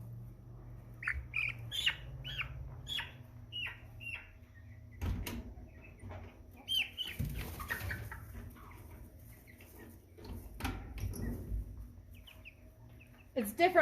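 Six-week-old American Bresse chicks squawk and cluck repeatedly during a sorting session, with sharp, close calls in irregular bursts over a low, steady background hum.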